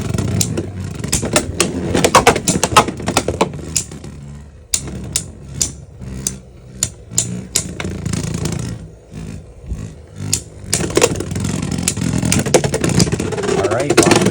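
Beyblade tops, including Rock Leone, clash in a plastic stadium, giving rapid sharp clicks and clatters in bursts, then a whirring spin and renewed collisions, while a person talks nearby.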